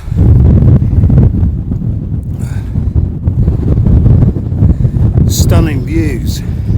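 Strong wind buffeting a microphone on top of Cley Hill, a loud continuous low roar and rumble throughout, with some faint brief sounds near the end.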